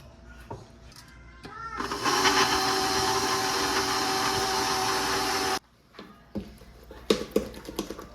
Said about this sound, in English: I was just mixing to get some of the lumps out